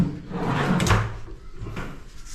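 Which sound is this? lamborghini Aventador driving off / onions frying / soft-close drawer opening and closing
soft-close drawer opening and closing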